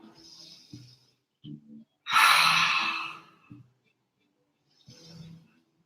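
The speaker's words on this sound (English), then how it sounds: "Audible breath here." During a prenatal yoga class, one long, loud audible exhale sweeps through the middle of the clip, with softer low breathing and body sounds before and after it.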